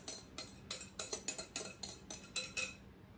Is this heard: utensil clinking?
yes